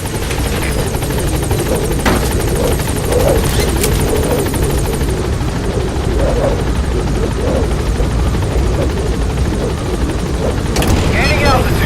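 A helicopter lifts off in Metal Gear Solid V, its loud, steady rotor roar and engine whine filling the scene without a break, with faint voices murmuring beneath.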